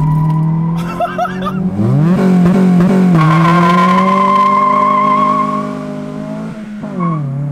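Modified Acura RSX in first gear revving to 4,000 RPM, its engine tone climbing in sharp surges, then holding a steady loud pitch before dropping off, with a brief second blip near the end.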